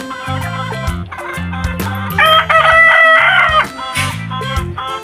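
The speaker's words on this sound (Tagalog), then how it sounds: "Ang kumakakak ng native guys Mga mangingitlog ngayon yan" Native chickens cluck and cackle loudly and close by in a repeated rhythmic run, building to a louder, higher cackle in the middle.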